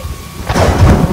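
A deep rumble of thunder in a film's storm scene swells up after a quiet start, loud and booming with a rain-like wash, no talking.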